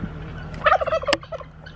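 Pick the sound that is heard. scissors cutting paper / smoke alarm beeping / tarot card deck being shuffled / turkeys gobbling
turkeys gobbling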